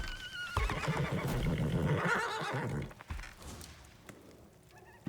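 A horse in the survival game Icarus gives a loud, close neigh lasting a couple of seconds, followed by quieter thuds and ambient game noise.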